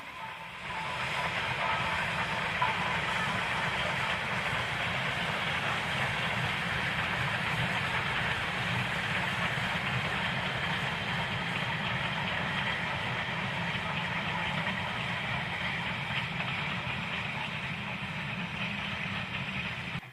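Victorian 0-6-2 steam tank locomotive, BR number 58926, running with a steady hiss of steam and a continuous low rumble of wheels and motion, constant and fairly loud for about twenty seconds without a break, no talking.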